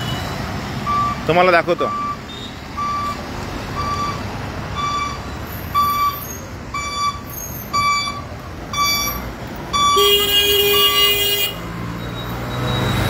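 A bus at Titwala station gives a steady run of reversing beeps, evenly spaced, along with a horn toot, engine rumble and station noise, while someone talks nearby.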